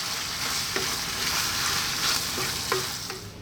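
Hot dog sausage pasta fries in a pan over high heat while a utensil stirs it, giving a loud, constant sizzle broken by a few scraping strokes.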